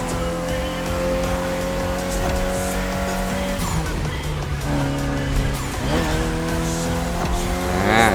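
A car races in The Crew Motorfest with traction control and ESP switched off and manual gears, its engine droning and shifting pitch as the tires squeal and skid through corners, loud and continuous.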